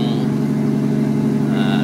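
A CNG-powered NGV truck engine runs with a steady, loud low rumble that holds an even level with no clear rev rise. It continues alone throughout, with no talk over it.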